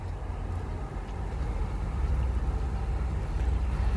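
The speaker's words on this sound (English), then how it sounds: "A couple more cars pulled in." Cars roll in at a rainy outdoor Corvette show, their engines a faint, low, steady rumble that swells slightly midway, with no voices.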